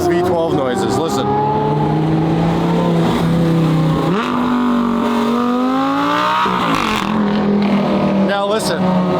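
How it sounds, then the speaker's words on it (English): A Lamborghini V12 engine revving loudly up close, pitch climbing and falling through several sustained rev sweeps, with brief sharper blips at the start and end. "V12 noises."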